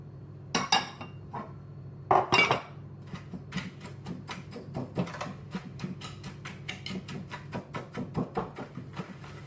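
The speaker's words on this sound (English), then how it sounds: "whisk a little bit more just to make sure to incorporate all of the ingredients we just added" Chocolate muffin batter with white and brown sugar whisked in a bowl, a run of quick clinking strokes against the bowl's sides, a couple of louder knocks near the start, then steady rhythmic taps.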